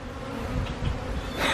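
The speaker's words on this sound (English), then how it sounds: "More bees here, man." Bees from a swarm of thousands buzz all around in a backyard, a steady close droning hum with a louder swell near the end as one passes near the microphone.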